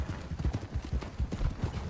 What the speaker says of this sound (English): Here comes all our horses.